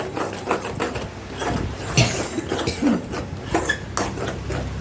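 Egg fry is stirred in a pan over a low flame, metal spatula scraping and clattering against the pan in irregular strokes over a faint sizzle, close and moderately loud.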